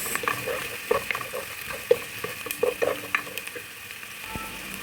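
Chopped large onion fries in a pan with a soft sizzle, broken by sharp clinks and scrapes of a utensil stirring against the metal.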